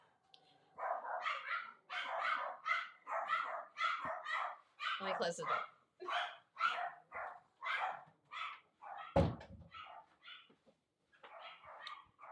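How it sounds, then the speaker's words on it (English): Dogs bark repeatedly in the background while a dog is walked past, a steady run of rhythmic barks in quick bursts, moderately distant, with a person briefly speaking and a sharp knock partway through. "We've got a dog walking by, and this barking will stop soon."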